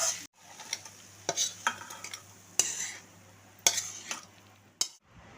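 Snake gourd with prawns frying in a pan, a soft steady sizzle broken by several sharp scrapes of a spatula stirring against the pan at irregular intervals, close and clear.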